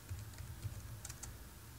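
Quick typing on a computer keyboard, a run of soft, close key clicks in an irregular rhythm, faint and alone with no talking.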